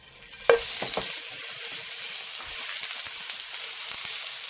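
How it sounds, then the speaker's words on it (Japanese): Thin slices of meat frying in a hot pan for a Korean tofu kimchi dish, a steady close sizzle that starts with a sharp hiss as the meat goes in, followed by light stirring noises and no talking. "フライパンを温めてお肉を入れます。"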